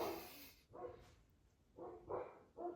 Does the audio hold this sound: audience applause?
no